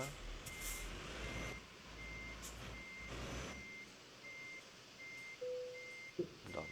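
Reversing beeps from a truck with a tanker trailer in Euro Truck Simulator 2, an evenly spaced electronic beep repeating over a low engine rumble, followed by a brief hiss and a clunk near the end.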